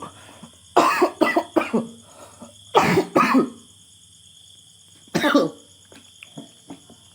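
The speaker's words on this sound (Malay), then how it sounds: "Sekejap aku nak batuk." Several harsh coughs close to the microphone during a motorcycle clutch plate tutorial, in clusters separated by pauses, with a steady high hum in the background.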